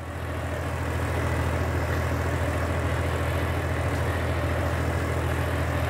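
A John Deere 5405 4x4 tractor runs with a 24-disc pressure harrow behind it, its diesel engine giving a loud, steady, unbroken drone with a deep low rumble and no talk.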